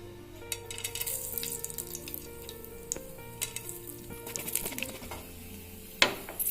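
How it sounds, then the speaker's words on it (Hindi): Cloves frying in hot oil in a pan, a soft crackling sizzle with light pops and a few clinks, quiet and close, ending in a sharper clatter. "तेल टिके गरम ही आसले एथिरे आमे जो रखी गुजराती लवंग को पकेबा"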